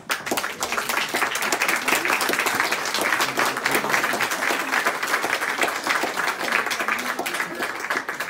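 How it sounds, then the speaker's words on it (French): Sustained applause from a large crowd, dense clapping continuing steadily at full loudness without a break. "je voudrais aussi que vous vous applaudissiez encore une fois"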